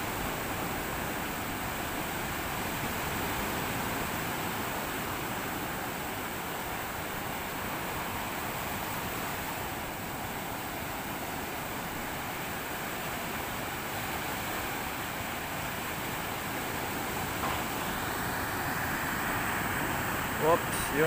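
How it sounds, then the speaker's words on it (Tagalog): Big ocean waves break on a beach where people surf and skimboard, a steady loud broadband roar of surf with wind buffeting the microphone, continuous throughout with no voices. "Laki ng alon."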